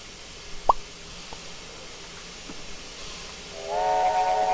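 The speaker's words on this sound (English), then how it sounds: "the Omaha model also has the chimed whistle" Chimed steam whistle of a Union Pacific 0-6-0 steam locomotive in the Trainz 2019 game sounds near the end over a steady hiss, preceded by a short pop and faint clanks.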